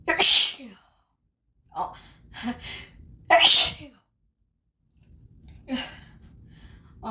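A person sneezes repeatedly from grass pollen, several forceful close sneezes with hitching, gasping breaths and sighs in between, plus a brief spoken exclamation, separated by short silent pauses.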